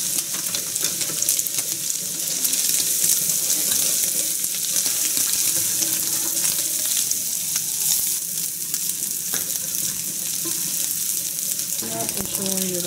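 Fried rice with seafood and meat is stir-fried in a pan, giving a continuous loud sizzle with scraping and tossing noises throughout, close and steady with no talking.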